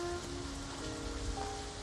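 Steady rain falls in the video game Halo ODST recreated in Unreal Engine 5, a dense, even hiss of drops on surfaces that stays loud and continuous with a few faint tonal hums underneath.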